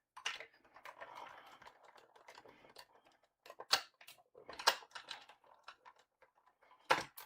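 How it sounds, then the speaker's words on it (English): Scissors snip through paper to cut out a partial leaf shape, a series of short, close crisp snips and rustles with pauses between them. "I'm just going to cut a partial leaf"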